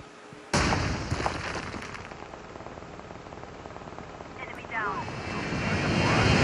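An aircraft engine in Call of Duty Mobile starts abruptly and then drones steadily with a broad whooshing roar, swelling louder toward the end; no talk is heard over it.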